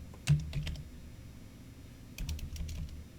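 Keystrokes on a computer keyboard entering a part number, a short burst of a few quick clicks followed by a pause and then another run of light, rapid taps, close and fairly quiet.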